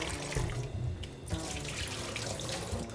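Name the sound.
draining cooked shrimp in the sink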